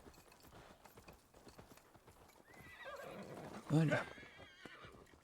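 Horse hooves clip-clop steadily in Assassin's Creed Valhalla, then a loud whinny rises near the end, with someone talking over the game sounds.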